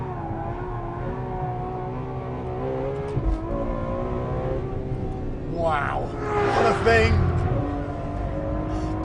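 A Ferrari F12 accelerates hard in fourth gear over a crest at about 115 mph, its engine note rising and surging loudly near the end. Someone talks over the steady engine drone early on.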